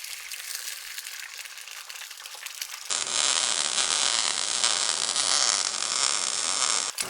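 A MIG/MAG welding arc crackles with a steady, dense frying-egg sizzle, loud and continuous after a fainter hiss at the start, with no talking.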